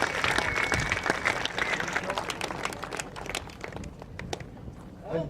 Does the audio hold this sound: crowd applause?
yes